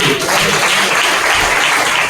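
A church congregation at a worship service bursts into loud, dense applause, many hands clapping together in a sustained close wash of sound for a couple of seconds.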